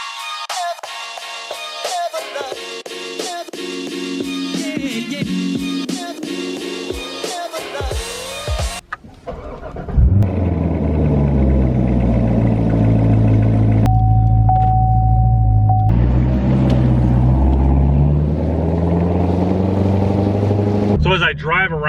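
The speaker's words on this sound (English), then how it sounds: "So as I drive around the building to get to Brad's Bay" A 2019 Corvette ZR1 fitted with a big spoiler and ground-effect kit rumbles at low speed around a building, its deep engine note swelling and settling steadily, loud and close throughout.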